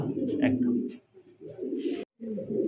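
A pair of blue bar racer pigeons coo in soft, rounded low murmurs close by, a few repeated phrases with a brief pause between them.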